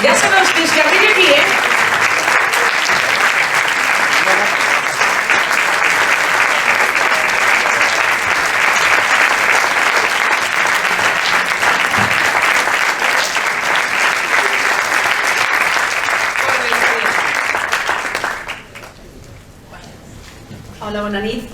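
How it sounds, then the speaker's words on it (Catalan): Loud, sustained audience applause at a film festival award ceremony in Pineda de Mar, a dense steady clatter of clapping for about eighteen seconds before it drops off abruptly into quieter room sound. "Sisplau, un aplaudiment."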